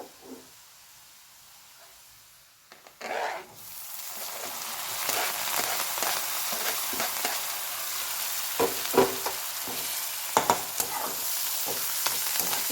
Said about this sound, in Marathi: आता आपला कांदा चांगला लालसर रंगावर परतला गेलाय त्याच्यात आपण टोमॅटो आणि कोथिंबीर टाकणार आहे